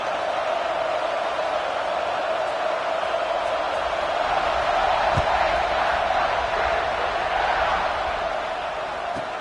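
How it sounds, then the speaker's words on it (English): Stadium crowd at an Eagles football game roaring steadily as the kickoff is set, a dense continuous wall of cheering that stays loud and even throughout with no speech standing out. "They're set to kick it off, and this crowd now ready to get behind them."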